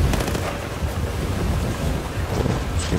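A thunderstorm in Battlefield 4 rumbles steadily with heavy wind and rain-like noise, continuous and fairly loud, with deep low rumbles throughout.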